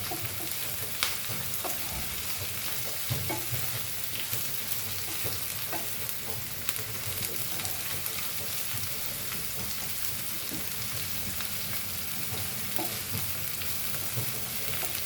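Chopped tomatoes hit a hot frying pan for Goan chilli chicken, giving a loud, steady, close sizzle and crackle that carries on unbroken, with occasional stirring scrapes.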